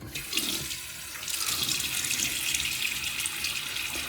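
Water runs steadily from a bathroom tap into a sink as a face is wetted before shaving, a continuous close splashing hiss with a brief lighter start.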